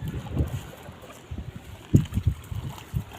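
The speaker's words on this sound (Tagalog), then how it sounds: "Malakas ang hangin" Strong wind on a boat: gusty, low buffeting thumps hit the microphone in irregular bursts, the loudest cluster coming about two-thirds of the way through, over a quieter background.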